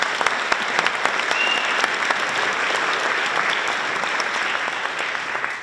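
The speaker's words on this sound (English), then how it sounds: "So I would like to just extend a warm round of applause for her," An audience at a National Honor Society induction ceremony gives sustained applause, with dense, steady clapping that tapers slightly toward the end and a few louder individual claps standing out.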